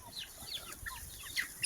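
Chickens clucking and chirping softly, several short calls scattered over a faint, quiet background at a poultry farm.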